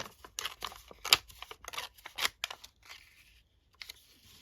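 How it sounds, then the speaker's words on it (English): Paper is torn by hand in a series of short, crisp rips and crinkles, close and fairly quiet, with brief pauses between pulls. "we'll might leave the straight bit at the bottom and rip it from here"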